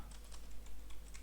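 Crisp computer-keyboard keystrokes entering directory-creation commands, a quick close-up run of clustered clicks with short pauses, alone without voices.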